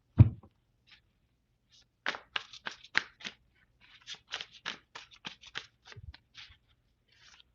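Rapid bursts of riffling and soft slaps of cards being shuffled, several quick runs in a row, close and fairly quiet, with no one talking.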